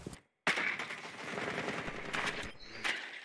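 Rapid, sustained machine-gun fire from Tachanka's mounted turret in a Rainbow Six Siege match on Coastline, a dense close burst starting after a brief silence and rattling steadily for about three seconds with no talk.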